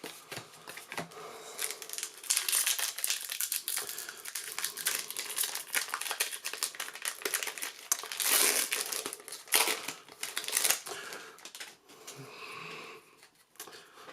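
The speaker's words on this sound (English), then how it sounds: "Apparently I'm going to have trouble opening cards and packs of cards today." Packs of Magic: The Gathering War of the Spark trading cards being torn open, with dense, close crinkling and crushing of foil wrappers that rises and falls in bursts over about fourteen seconds, no talking.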